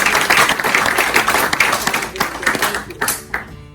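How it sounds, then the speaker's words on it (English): An audience claps in a burst of applause, loud and close at first, then thinning into scattered, uneven claps that fade toward the end, with faint voices underneath. "what we should do is just give another really good round of applause for Joanne."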